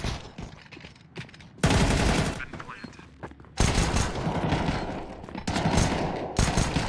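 Rapid bursts of P250 pistol gunshots in a Counter-Strike match at a professional esports tournament, loud dense volleys cutting in and out over about seven seconds.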